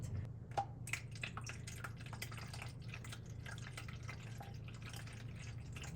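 Water poured into the reservoir of a drip coffee maker, measured for two cups, gives a steady faint trickle with light dripping splashes that continues throughout, with no talking.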